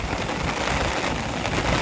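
Dense, even rain pours down, a constant hiss of drops hitting surfaces with no other sounds.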